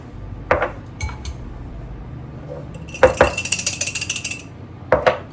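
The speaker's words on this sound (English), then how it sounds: "whisk it all together." Whisk stirring a mayonnaise, lemon and black pepper mixture in a bowl, with scattered clinks and then a quick burst of rapid metallic taps against the bowl.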